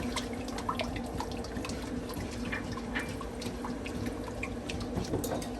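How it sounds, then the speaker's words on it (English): Half a cup of water poured into a pan of melted margarine and sugar for chocolate mousse, a steady faint splashing trickle with small drips, close and alone. "And we're going to add a half a cup of water."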